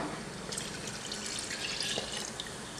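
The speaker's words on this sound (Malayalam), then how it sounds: "ഇനി നമുക്കിതിലേക്ക് 1-ാം പാൽ ഒഴിച്ചു കൊടുക്കാം" Thick first-extract coconut milk pours steadily into a pan of plantain curry, a soft continuous trickle and splash close by with no voices.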